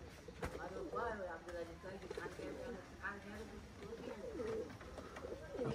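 Old Khulna-breed pigeons cooing close by, a run of soft repeated throaty coos with a person talking over them.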